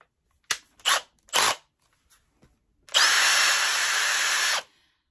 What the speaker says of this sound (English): So let me just get this on my drill.